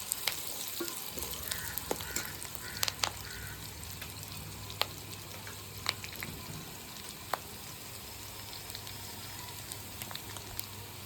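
Onions fry in oil with curry leaves and coriander for Indian sardine fish kulambu, giving a soft, steady sizzle dotted with scattered sharp crackles and pops. It is close but fairly quiet, with no voices.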